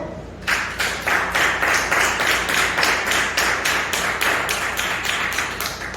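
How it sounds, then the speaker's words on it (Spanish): A church congregation breaks into applause during a sermon, the steady rhythmic clapping starting abruptly after a brief pause and continuing loudly and evenly with clear beat-like pulses. "Un aplauso al Señor."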